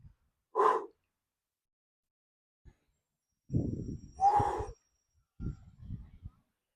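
Slow breathy exhales during a controlled ab exercise with straight-arm diagonal twists, three separate breaths spaced a second or two apart, close and fairly soft, with no talking.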